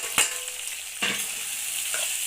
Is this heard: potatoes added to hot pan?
yes